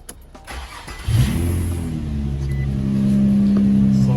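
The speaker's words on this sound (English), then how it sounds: "Let's turn the car on." An Infiniti G35 Coupe engine cranks briefly, catches, and settles into a steady idle that grows slightly louder, close by, with no talking.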